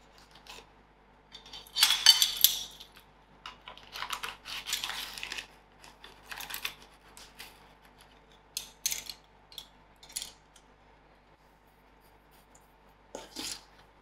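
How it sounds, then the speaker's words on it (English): Dry cake ingredients (sugar, cocoa powder and bicarbonate of soda) are mixed in a bowl for an eggless chocolate cake, giving intermittent scraping and clinking bursts of utensil against bowl, close by with pauses between strokes and no speech. "I will give all the dry ingredients a good mix."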